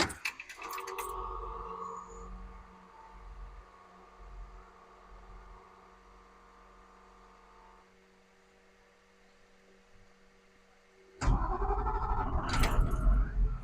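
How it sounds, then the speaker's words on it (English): A bus engine cranks with rhythmic turnover pulses, idles low, then falls quiet before a loud burst of rumbling noise near the end; no talking. "If the bus will start again."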